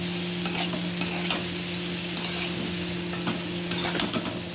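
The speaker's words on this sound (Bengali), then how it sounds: "আদা আর লঙ্কা নাড়াতে রাখবো" Ginger and chilli stirred in a hot pan for khichuri with gobindobhog rice and moong dal, giving a steady close sizzle broken by repeated scraping stirs of the spoon against the pan, with a faint low hum underneath.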